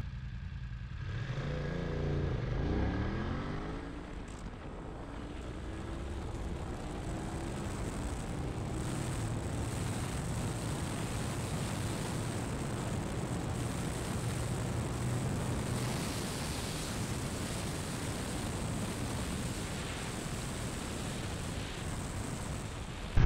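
A motorcycle roars through a full acceleration run from standstill toward 100, its engine note climbing through rising gear sweeps, then holding a steady loud drone.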